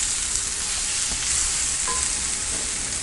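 Onion and garlic sauté in a hot cast-iron kadai for onion chutney, a steady, loud, dense sizzle with a few faint stirring clicks and no voices.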